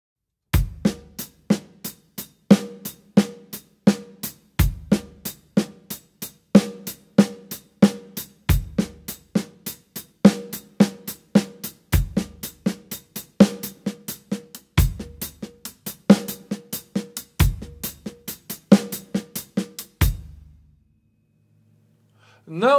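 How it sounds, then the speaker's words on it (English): A drum kit plays a 6/8 Afro-Cuban bembe groove, with a sharp, regular bell-like pattern over periodic low kick or tom hits, close and dry, stopping near the end. "you suddenly will hear that typical sound of the bell pattern of the bembe groove"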